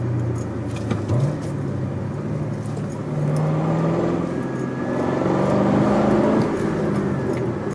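A car engine with a manual transmission revs as the driver downshifts, the pitch rising and settling through a few gear changes under a steady close mechanical hum.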